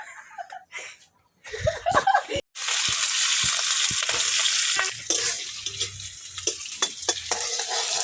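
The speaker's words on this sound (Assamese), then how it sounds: "মই আজি বন্ধাকবি ভাজি বনাই আছো" Cabbage stir-frying in a pan at home, a steady bright sizzle running for several seconds after a few clattering stirs and knocks, with brief laughter and a voice murmuring in the background.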